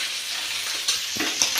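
Garlic sautéing in a hot pan for chilli chicken, a steady bright sizzle with a few louder crackles and stirring scrapes, close and alone.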